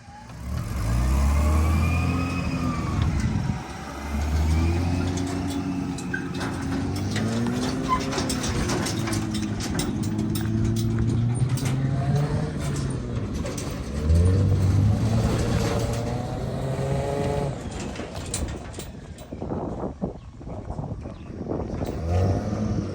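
A Toyota Land Cruiser engine revs hard and repeatedly as it strains to pull free of deep sand, rising and falling in surges, close and loud throughout with no voices.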